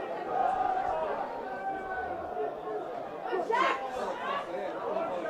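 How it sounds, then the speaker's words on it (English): A rugby league crowd at a Whitehaven versus Bradford match growing noisy, a broad steady murmur of many voices with a swell of cheering, heard under a commentator talking. "the crowd are getting a bit noisy"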